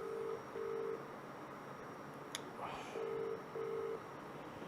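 A phone ringback tone on an unanswered call, sounding as repeated paired beeps, two short bursts, a gap, then two more, steady and moderately clear over a faint background hiss.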